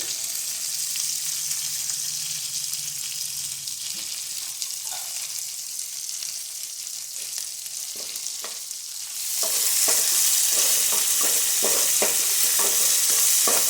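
Curry leaves, green chillies and onions frying in a pan for coconut upma, a steady sizzling hiss that swells louder partway through, with scattered stirring scrapes and taps and no talk.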